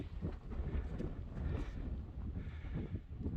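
Gusty wind buffets the microphone on a Lake District fell summit in winter conditions, a steady low rumbling roar with surging gusts and no talk.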